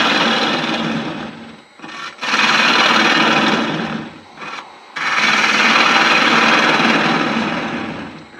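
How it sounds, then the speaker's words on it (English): A gouge cuts into a wooden candle holder for a glass jar spinning on a lathe, loud rasping scrapes in three long passes with short pauses between, close and alone. "I can now grab a gouge and take this lot out a lot easier."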